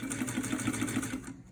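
A 1947 Singer 66 sewing machine runs a back tack, a steady, close, rhythmic needle clatter and motor hum that stops abruptly near the end.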